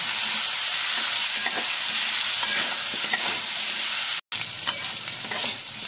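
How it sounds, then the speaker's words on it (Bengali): Boiled jackfruit pieces fry with turmeric in an oiled pan, a strong steady sizzle broken by spatula scrapes and stirring clatter, with one brief dropout near the end. "একটু নেড়ে চেড়ে ভেজে নেব"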